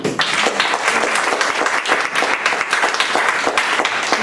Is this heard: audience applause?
yes